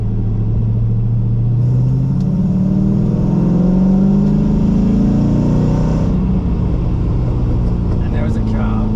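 An LS V8-swapped Mazda RX-8 pulls in third gear at about 25 mph, its deep engine rumble rising steadily under acceleration, loud and close from inside the car, with talking over it.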